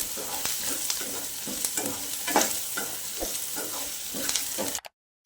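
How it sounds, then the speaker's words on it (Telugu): A spoon scrapes and stirs through a cooking pan in quick, repeated strokes, mixing turmeric and salt over a soft, continuous sizzle before the sound cuts off abruptly. "పసుపు, ఉప్పు బాగా మిక్స్ చేసుకోవాలి."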